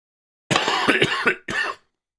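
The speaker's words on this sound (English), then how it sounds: "This cough is still bad too." A lingering cough, heard as a close, loud burst of several harsh coughs in quick succession, then a short pause and one more cough, with no talking.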